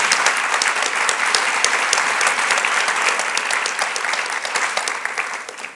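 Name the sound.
applause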